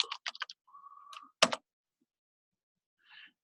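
Faint, quick bursts of computer keyboard keystrokes: a short run of taps, a brief tone, a sharper clack, then a soft click after a pause.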